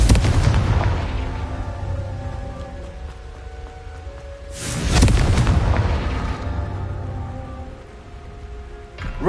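In the Hogwarts Legacy video game, the Confringo blasting spell goes off, a loud deep boom rolling into a rumbling tail, then a second heavy explosion midway that fades into a low, rain-like wash of debris.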